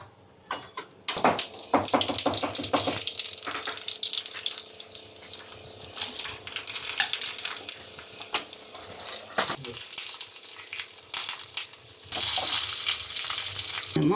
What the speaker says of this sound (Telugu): పోపు పెట్టేస్తా